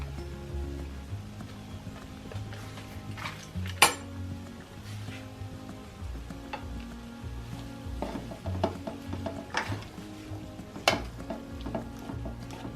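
Cream cheese is being stirred as it melts in a pan, with soft scraping and a low sizzle, plus scattered clinks of a utensil against the metal and one sharper knock.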